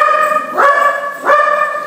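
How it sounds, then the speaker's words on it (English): A dog barks twice, close by, with clear tonal yelps about half a second apart over a quiet background. "And there are the dogs."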